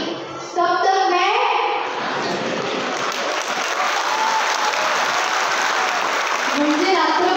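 Audience applause at the Rajmata Mahotsav 2025 festival in Buldhana, sustained loud clapping from a large crowd that swells quickly after a short spoken moment and carries on evenly to the end.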